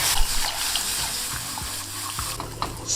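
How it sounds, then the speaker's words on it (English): Warm milk is poured slowly into a browned flour-and-butter mixture in a pan for lasagna sauce, giving a soft wet sizzle and splashing with light stirring, close and steady, no voices. "Slowly add in the milk and continue to mix this"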